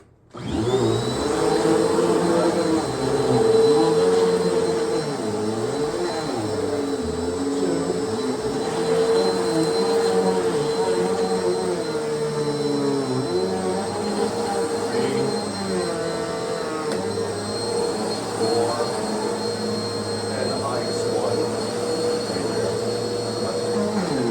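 A steady, loud motor whine with a high-pitched hum from a Bissell PowerForce Turbo Rewind Pet upright vacuum running continuously on bare floor at setting 1, with slight shifts in tone as it moves.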